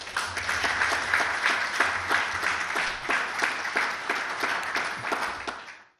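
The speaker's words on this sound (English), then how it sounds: "I want to give the professor a big round of applause again." A lecture audience gives a round of applause for a professor at a public lecture, sustained and dense clapping from a sizable crowd that holds steady for several seconds before fading out at the end.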